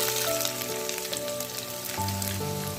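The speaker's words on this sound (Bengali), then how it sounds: "তেল গরম হয়ে গেছে, এখন দিয়ে দিব পেঁয়াজ কুচি।" Chopped onion frying in hot mustard oil in a pan, a soft continuous sizzle with light crackle, fairly quiet and alone.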